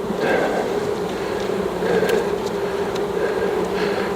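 Honeybees buzzing during a kitchen hive inspection, a dense steady hum of many insects close by, swelling slightly at moments with no talk.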